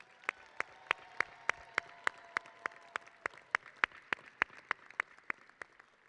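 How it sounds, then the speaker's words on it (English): Sharp, evenly spaced single claps ring out at a law school commencement, a steady rhythmic beat of about three per second, fairly faint and alone. "Let's give the family and friends of our graduates a round of"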